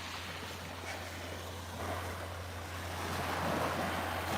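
Ocean waves wash in at a shore with clear water and seaweed just offshore, a soft, steady surf hiss that swells slightly toward the end, mixed with faint wind noise and no talking.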